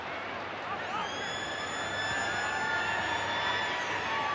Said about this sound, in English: there it is, the halftime siren in the background